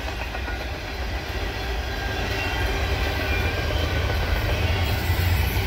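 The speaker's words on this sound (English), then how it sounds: "Norfolk Southern intermodal train down there too" A Norfolk Southern intermodal freight train rolls past nearby, a loud steady rumble with faint clickety-clack of wheels on rail joints that grows slightly toward the end, no voices.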